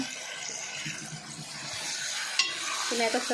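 Salted pieces frying in a pan are stirred, a steady sizzle with scraping strokes of the spoon, close and continuous, with a brief clink near the end.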